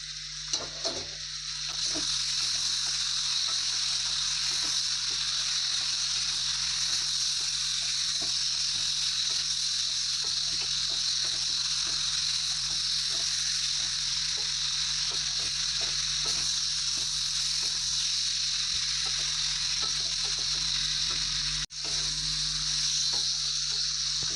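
Pumpkin and shrimp curry sizzling steadily in a pan for a long, even stretch, a dense continuous hiss with occasional small crackles and a brief dip near the end, no talking.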